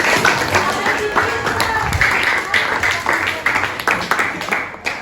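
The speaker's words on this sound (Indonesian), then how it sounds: "Oke, tepuk tangan buat." Students in a classroom clap together for a classmate, a steady dense patter of hands lasting throughout with some voices mixed in.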